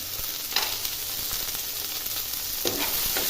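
Cashew pieces stirred into a tomato paneer gravy frying in a pan, a constant close sizzle broken by a few scraping stirs of the spoon, with no talking.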